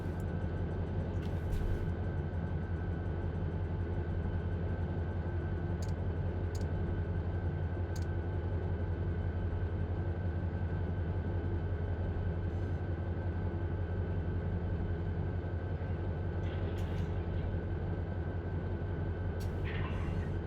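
A locomotive idles steadily in Run 8 Train Simulator, a low continuous diesel rumble with a constant hum running unbroken throughout, joined by a few faint, brief clicks.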